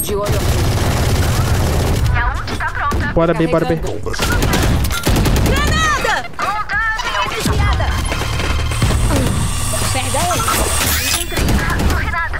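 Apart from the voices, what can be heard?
gunfire in a video game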